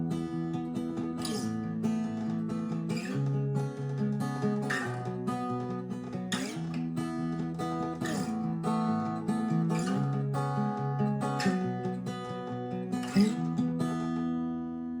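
A fingerpicked acoustic guitar plays the intro of a song: steady, ringing plucked notes over sustained low bass tones, alone and even in volume, with no voices.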